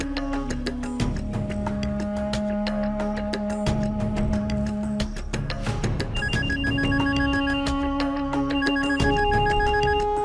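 A telephone rings steadily indoors in a household drama, its repeating electronic ringtone loud and continuous for about ten seconds over a low music bed, with no voices.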